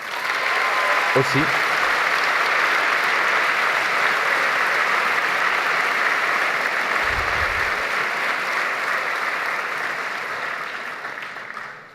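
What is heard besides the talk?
audience applauding at medical graduation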